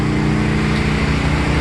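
A roughly 20-year-old 3.5 ton Lennox air conditioner runs on a generator, giving a loud, steady mechanical drone with a low pulsing hum, close and continuous.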